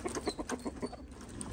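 A hen clucks in a garden, a quick run of short close clucks in the first second, then quieter background.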